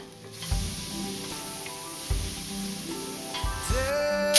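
Garlic fries with onion in a pan for a Christmas meal. A loud, close sizzle swells as the food is stirred, with a few scraping pushes against the pan and no talking.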